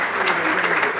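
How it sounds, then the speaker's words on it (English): Audience applause for the lead alto saxophonist of a jazz band at a music educators' reading session: a brief, dense burst of clapping from a sizable room, steady and fairly close. "You can give him a round of applause."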